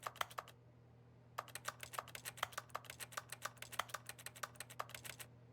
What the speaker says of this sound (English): Why does this have a fucking keyboard sound?